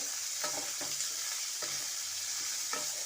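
Onion, green chilli and carrot fry in white oil for Chinese rice, a steady close sizzle with a few sharp stirring scrapes spaced through it. No one speaks.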